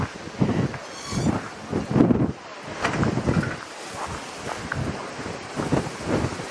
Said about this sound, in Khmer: ថ្ងៃដែលខ្ញុំទៅហ្នឹងគឺខ្យល់ខ្លាំងណាស់បងប្អូន